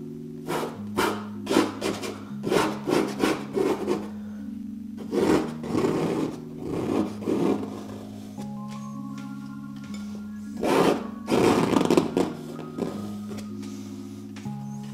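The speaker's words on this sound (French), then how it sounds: "on retire tout le surplus à l'aide du dos du couteau" The back of a palette knife scrapes excess paint off a canvas while painting a rooster, giving close, rhythmic rasping strokes in short repeated passes, with a steady low tonal hum running underneath.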